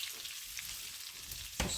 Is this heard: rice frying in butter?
yes